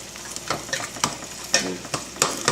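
Garlic fries in oil in a pan on medium-high heat, a steady close sizzle punctuated by sharp, regular stirring clacks roughly every half second.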